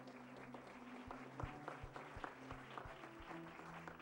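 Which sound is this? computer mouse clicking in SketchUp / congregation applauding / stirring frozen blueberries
congregation applauding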